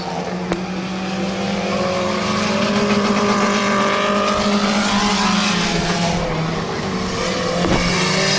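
Race car engine of Rich Hess's number 19 qualifying at Midvale Speedway, a steady loud roar with rising and falling pitch as the car laps, sustained throughout without talk.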